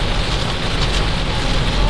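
Rain heard from inside a car driving along a foggy toll road from Malang toward Gresik, a loud, steady wash of drumming and road roar with no break.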